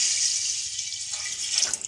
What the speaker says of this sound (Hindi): तकरीबन 1 लीटर आप पानी डाल दें